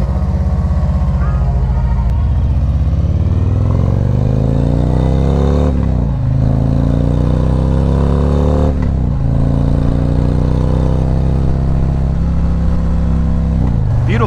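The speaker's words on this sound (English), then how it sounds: "I'm really looking forward to testing out this Honda Goldwing" A 2021 Honda Goldwing DCT motorcycle is ridden, its engine loud and near, with a smooth rising drone that drops back briefly twice as the automatic transmission shifts.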